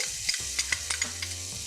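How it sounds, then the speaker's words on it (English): Minced shallots sizzle in pecan oil in a pan, a steady frying hiss broken by several quick clinks and scrapes of a stirring utensil, close and with no talking. "just to have enough to saute some shallots and some mushrooms. So I'm going to put in minced shallots"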